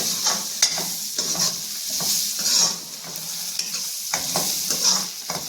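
Tomatoes tossed into a pan of mixed vegetable sabji sizzle loudly while a spoon stirs them in repeated scraping strokes, close up and with no voices.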